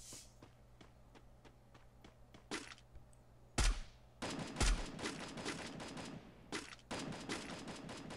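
Rapid bursts of Free Fire gunfire crack out in clusters, sharp and loud, with short pauses between volleys and steady background noise underneath.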